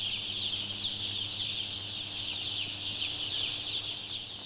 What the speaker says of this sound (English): Chickens are by nature social, curious, and intelligent animals.